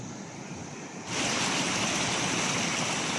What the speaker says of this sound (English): this is the water that's being drained from another culvert that had blocked all a tunnel